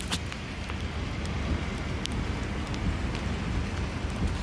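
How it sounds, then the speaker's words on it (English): Steady rain falls outdoors behind a shopping mall, a constant broadband patter with scattered sharper drops, continuous and fairly close, with no voices. "still raining"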